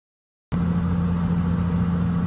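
A 28-year-old Lexus car's engine starts abruptly and settles into a steady, loud idle with a low, constant hum, heard close up while its air conditioning is being repaired.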